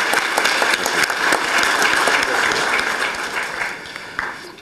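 An audience at a general meeting of a historical society applauds steadily, a dense wash of many hands clapping that fades slightly toward the end.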